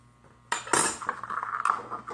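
A knife slices lengthwise through an avocado in a kitchen, making a few close, crisp clinks and scrapes against the cutting surface.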